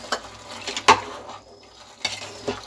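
Carrot halwa with added almonds and cashews being stirred in a pan, giving a few soft scraping clinks of a spoon against metal, spaced irregularly and close by, with no talk.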